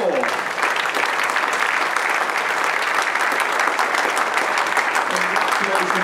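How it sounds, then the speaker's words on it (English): Audience applause at the 50m men's pistol final of the 2015 ISSF World Cup Final in Munich, a full, continuous round of clapping from a large crowd, with a voice heard briefly at the start. "So ladies and gentlemen, please give a warm round of applause to our 6th place this afternoon for Korea, Jin Jong-ho."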